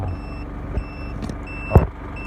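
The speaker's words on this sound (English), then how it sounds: "that's my multimeter warning me that it's been on for" A digital multimeter left switched on sounds its warning, a thin high steady beep that repeats in short bursts, faint beside a couple of louder nearby knocks and bumps.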